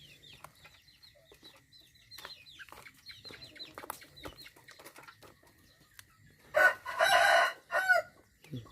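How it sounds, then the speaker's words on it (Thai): A rooster crows once, loud and close, after a stretch of quiet background bird chirps. "ไก่ขันอะไรพี่น้อง"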